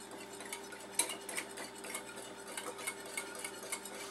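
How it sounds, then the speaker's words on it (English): Egg and melted butter whisked into milk and vinegar in a bowl, a quiet, fast, continuous rattling clink of the whisk against the bowl, close by, with a faint steady hum behind it. "I'm going to add 1 egg to it, and then 2 tablespoons of melted butter. And then I'm going to whisk that together."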